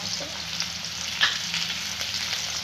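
Mustard seeds and cumin crackle steadily in hot oil, a dense continuous sizzle with scattered sharp pops and one louder snap near the middle, close and alone without any voices.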